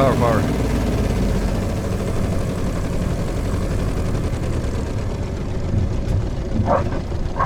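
J-3 Piper Cub rolling on the ground in Microsoft Flight Simulator, a loud continuous engine drone with rumbling, rattling ground noise that stays steady throughout, with brief voice sounds at the start and near the end.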